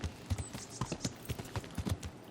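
A horse trots along a woodland path in the medieval game Kingdom Come Deliverance, its hooves clip-clopping in a steady quick rhythm, moderately close, over faint outdoor ambience, with no talking.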